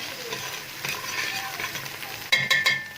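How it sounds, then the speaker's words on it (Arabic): Peppers and greens sauté in a hot pan for an Egyptian stuffed-vegetable dish, giving a steady close sizzle with a few scraping stirs and a louder clatter near the end. "هننزل بالفلفل والخضره وهنديها تشويحتين"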